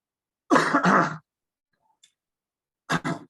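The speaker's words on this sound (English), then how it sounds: "Let me clear my throat." A person clears their throat twice in a row, a pause of near silence, then a shorter throat clearing at the end.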